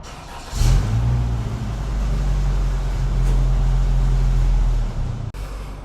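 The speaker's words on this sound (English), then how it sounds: "That was the mailman truck." A mail delivery truck passes close outside, its low engine rumble swelling in quickly, holding steady for several seconds, then cutting off near the end with no talk over it.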